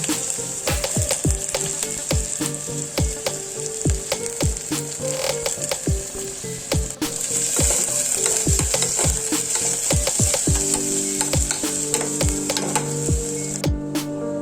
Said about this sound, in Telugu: ఉల్లిపాయలు వేసుకొని అందులో పచ్చిమిరపకాయలు కూడా వేసుకొని బాగా వేయించుకోవాలి